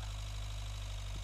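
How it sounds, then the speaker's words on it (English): Giant American tractor engine idling in Agricultural Simulator 2013, a steady low rumble with constant vibration running continuously and evenly throughout, no voices over it. "you'd marvel at giant American tractor"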